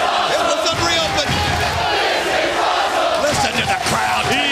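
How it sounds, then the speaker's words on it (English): A wrestling arena crowd at a Bound for Glory event chants and cheers loudly and continuously, a dense roaring mass of voices with rhythmic surges throughout. "listen to the crowd."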